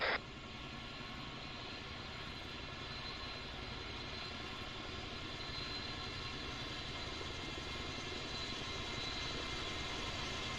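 A helicopter engine runs steadily at a military training site, producing a constant loud mechanical roar and whine with no pauses throughout.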